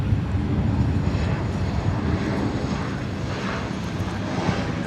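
An American Airlines airliner in Piedmont Heritage livery at DFW Airport roars with a loud, continuous jet-engine rumble and broad wind-like rush, steady and unbroken throughout.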